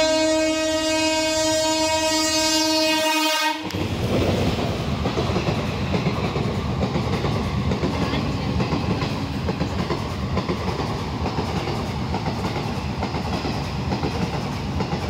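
A fast train roars past a station platform, opening with a loud multi-tone horn blast, then a sustained close rush of wagons with steady rattling clatter for the remainder, no voices heard.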